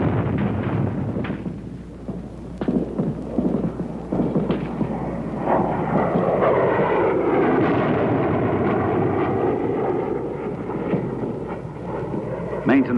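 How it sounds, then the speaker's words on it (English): Military aircraft fly an air support strike during jungle fighting in the Vietnam War, with heavy booming blasts and a loud, sustained engine roar that rises and falls over the whole stretch. "whenever there is a slight lift, the planes pour it on."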